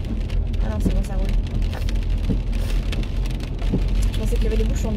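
Rain patters steadily on a car roof and windows, heard from inside the vehicle, a dense crackle of drops with occasional louder taps and soft voices underneath.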